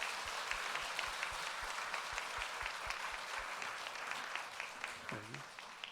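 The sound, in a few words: church congregation applauding to welcome a speaker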